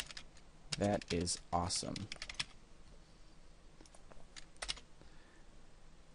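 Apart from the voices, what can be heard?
typing on a computer keyboard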